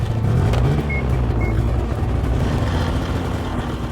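A Polaris or Can-Am off-road vehicle engine runs with a loud, steady low rumble and chugging idle right after starting, close by, with a couple of brief high beeps and no voices.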